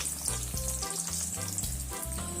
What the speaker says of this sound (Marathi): असे छान कडक होईपर्यंत असं तळायचे.